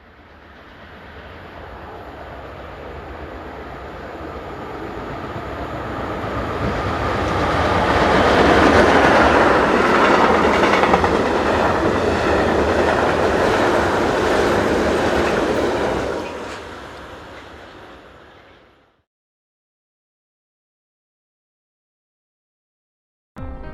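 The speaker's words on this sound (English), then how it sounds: "11162 heads west with a short container train" A short container train rumbles past on the rails, building from a distant approach to a loud, clattering roar of wagons, then fading away into silence.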